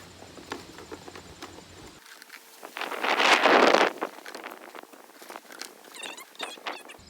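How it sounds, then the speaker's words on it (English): Early-evening wind gusts through a home vegetable garden, buffeting the microphone, with one loud swell in the middle and lighter rustling and pattering around it. "It's getting kind of windy out."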